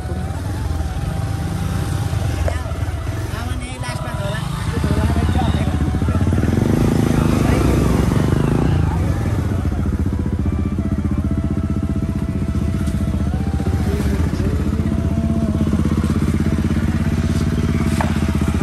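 A motorcycle engine runs steadily and loudly throughout, near a waterfall outside Butwal in Nepal's terai in summer, with its droning hum growing fuller after a few seconds while people talk over it.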